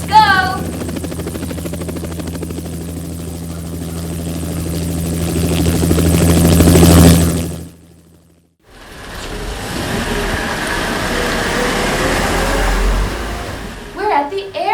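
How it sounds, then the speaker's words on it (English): A helicopter thrums loudly with rotor chop that swells for several seconds, cuts out briefly, then returns as a steady engine drone alongside children's voices. "It sounds like a helicopter."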